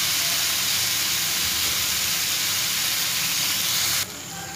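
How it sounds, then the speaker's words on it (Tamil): Tomatoes and curry leaves sautéing in a pan, a steady close sizzle and hiss that drops to a lower level near the end. "இதை நல்லா வதக்கி விட்டுறலாம்."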